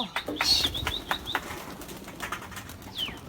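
Pigeons at a rooftop coop coo and flap their wings in quick close bursts, with scattered calls trailing off as the flock lifts away.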